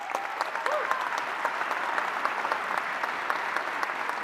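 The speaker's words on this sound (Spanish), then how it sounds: "Un aplauso por ello." Audience applause at a Chilean presidential candidates' face-to-face event, a steady wash of many hands clapping throughout, fairly loud and continuous with no speech over it.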